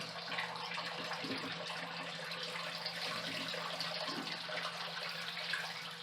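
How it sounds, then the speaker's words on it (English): Water rushing out as a whole-house water filter housing is drained into a drain, a steady, fairly quiet gushing flow that runs unbroken throughout with no speech. "You will get a little blowback of water here."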